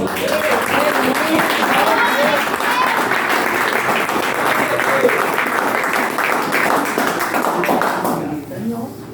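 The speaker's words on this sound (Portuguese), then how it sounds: "E pode aplaudir o Senhor Jesus." A church congregation claps steadily and loudly for several seconds, dense applause filling the room, then it thins out and fades near the end.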